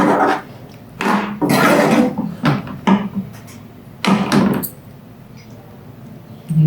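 Boiled spaghetti being mixed with cooked chicken in a pot, several bursts of clattering and scraping from a utensil against metal separated by pauses, close by and with no talking.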